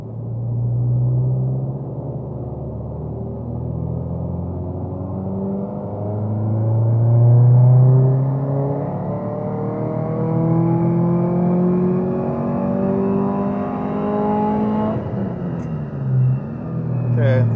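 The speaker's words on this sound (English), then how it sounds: "we're going to move on to doing some wide open throttle pulls" A tuned Subaru STI with a wastegate set around 18 pounds of boost making a wide open throttle pull, engine note climbing steadily in pitch for about fifteen seconds before the revs drop sharply, loud and close from inside the car.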